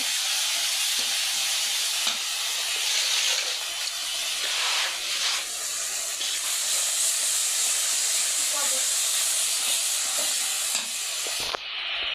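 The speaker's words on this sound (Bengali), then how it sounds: "তো এই যে মশলাটা কষাই নিচ্ছে" Spices being sautéed in a pan for a bottle gourd curry with bata fish give off a steady, loud sizzling hiss that runs unbroken throughout, with no talking.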